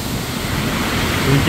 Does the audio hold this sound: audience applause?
no